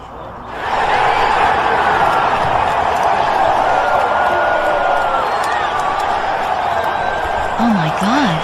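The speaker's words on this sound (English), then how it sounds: "They're cheering for me." A large crowd roars and cheers steadily from start to finish, loud and sustained, with a voice briefly rising over the noise near the end.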